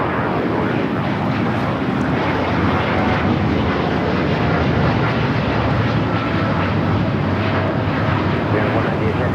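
Turkish Airlines jet at LAX with its engines spooling up, a loud constant broadband roar filling the scene, with speech underneath.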